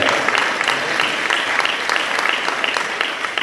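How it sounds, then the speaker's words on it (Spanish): A church congregation bursts into loud, sustained applause during a sermon, dense clapping filling the room evenly from start to finish. "Fuertes palmas al Señor en este momento."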